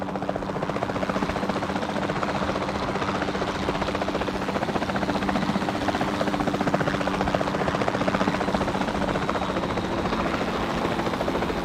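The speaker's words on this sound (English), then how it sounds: "the sensible thing is to take a capture team helicopter" A capture team helicopter flies steadily in the Jurassic World Evolution 2 video game, its rotor chopping in a constant loud drone throughout with no talk.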